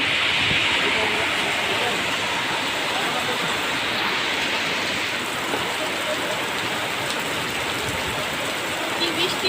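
Heavy rain pours down in a dense, steady roar that stays loud and unbroken throughout.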